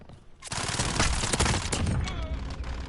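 Gunfire in Call of Duty Modern Warfare, bursting in after a brief quieter moment and continuing as loud, dense volleys of repeated shots with a few sharper cracks, mixed with faint game voice callouts.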